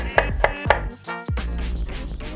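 A knife chops garlic sharply on a board, three quick strikes, then a steadier run of cutting and scraping, close by with no voices.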